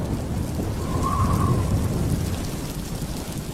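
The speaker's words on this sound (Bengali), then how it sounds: "বাইরে ঝমঝম করে বৃষ্টি পড়ছে।" Heavy rain pours steadily outside, a dense, even hiss and low rumble lasting throughout, close and loud, with a faint brief tone in the middle.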